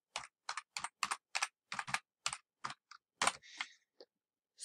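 A password typed on a computer keyboard, about a dozen crisp, separate keystrokes at an uneven pace, close and clear against near silence, ending with a slightly longer press.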